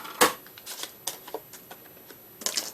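Paper being run through a die-cutting machine for a handmade Christmas card, with a few short crisp rustling bursts and light clicks spaced irregularly against a quiet background.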